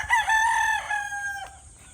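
Gray gamefowl roosters of about six months give a single loud, close crow that rises and holds before trailing off.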